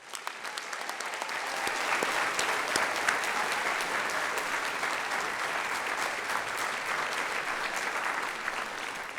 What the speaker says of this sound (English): will you please recognize these students with a round of applause?